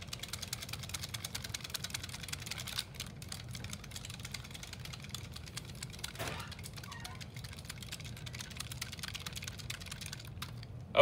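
A sling psychrometer whirled steadily by hand makes a continuous fast, rattling whir with a low hum beneath, unbroken and fairly faint throughout.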